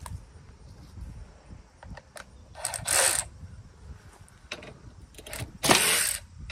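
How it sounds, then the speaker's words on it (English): A DeWalt 3/8 ratchet clicks in short bursts, a few quick ratcheting strokes with two louder sharp spells, close by over quiet outdoor background with no talk. "I did buy a DeWalt 3/8 ratchet."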